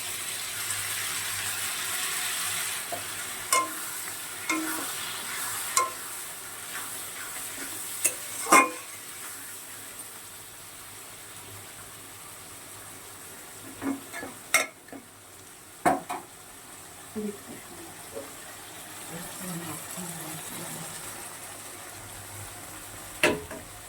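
Shrimp masala being sautéed with cumin, coriander and mustard paste, a low steady sizzle with occasional spatula knocks and scrapes against the pan, close by and without talk.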